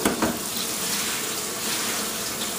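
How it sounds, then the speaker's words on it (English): Kale leaves washed under a running kitchen tap, a steady close hiss and splash of water that starts with a brief louder burst and then holds even, with no talking. "All you do is wash it."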